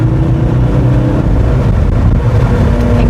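A steady, muffled engine drone from a sports car with an OPF (petrol particulate filter), low rumbling harmonics, continuous and fairly loud throughout, with no voices.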